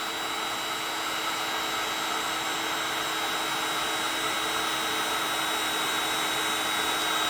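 Cordless heat gun powered by a Milwaukee M18 battery, running at its lowest setting: a steady, airy fan whir with a high whine, constant and close, with no pauses.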